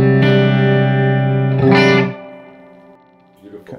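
A sustained electric guitar chord rings with heavy reverb from a Reeves amp and a muted, dark tone with the tone control turned down, swelling once and then decaying, with a faint pluck near the end.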